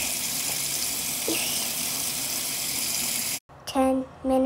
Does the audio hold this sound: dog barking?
no